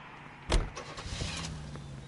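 Car sounds in the video game L.A. Noire: a thud like a car door shutting, then a low engine hum and soft mechanical whirring close by, with no talking.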